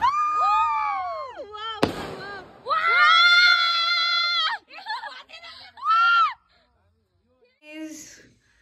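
Fireworks go off at night during the Tihar festival in Nepal: rising whistles, a sharp crackling burst and further whistling, loud and close, with voices and shouts mixed in.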